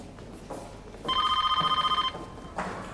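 A telephone rings once with a fast electronic trill that is loud and close and lasts about a second, between quiet room noise and soft voices.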